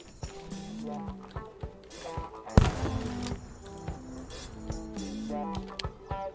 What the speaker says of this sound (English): just freaking explosions off in the distance